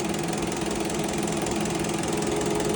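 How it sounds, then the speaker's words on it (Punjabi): A Mahindra Arjun Novo 605 diesel tractor engine runs steadily up close, its constant knocking rumble and whine holding at an even level with no voices. "ਟਰੈਕਟਰ ਸਟਾਰਟ ਹੋ ਗਿਆ"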